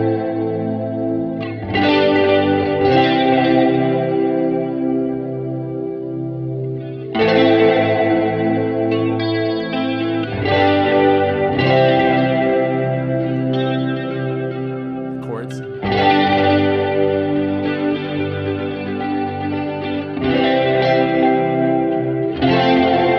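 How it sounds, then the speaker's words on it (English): Layered electric guitar chords ring out in slow, repeated strums, each washed in wavering Diamond vibrato and lingering reverb, played alone without voices. "there's 3 more layers of chords on the guitar here, all with the diamond vibrato and this reverb again"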